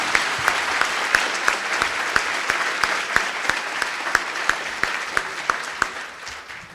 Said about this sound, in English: a nice round of applause for Jade Gibson